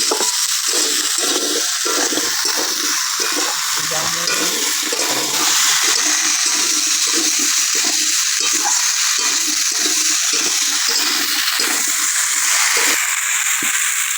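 Cut pumpkin, Malabar spinach stems and potato hit hot spiced oil in a pan, a loud, close, continuous sizzle with rhythmic stirring scrapes throughout.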